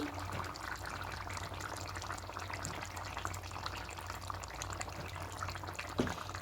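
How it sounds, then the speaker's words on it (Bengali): Ghee is poured into a vegetarian potato paneer gravy in a pan with the gas turned off, giving a soft, steady liquid pour that stays faint and continuous, with a small clink near the end. "এবার একটু দেবো ঘি"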